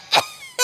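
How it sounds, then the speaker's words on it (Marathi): A single short, loud cough bursts out near the start, followed by a quieter tail and then a second rough, throat-clearing burst at the end, voiced within a comic Marathi stage skit about smoke from incense causing coughing. "धुराने येतो खोकला"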